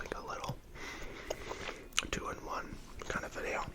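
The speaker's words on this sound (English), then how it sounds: "I hope you enjoy the gum chewing and the fact reading here" Warheads gum is chewed close to the microphone, giving soft wet smacks and clicks under quiet whispered speech, intimate and low in level.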